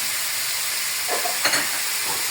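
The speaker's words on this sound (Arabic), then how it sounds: "هنا هننزل بفصين الثوم اهو" Garlic cloves frying in a pot for Saudi lamb kabsa give off a steady, even hiss of hot oil with a few brief louder crackles midway, with no voices.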